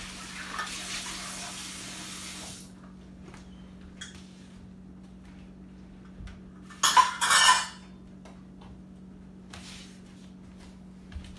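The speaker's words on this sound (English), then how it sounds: "Now I definitely have to rinse my cup out." A cup rinsed under a running tap, a steady splash of water for a few seconds, then quiet clinks and a short louder burst of water and crockery handling, with no talking.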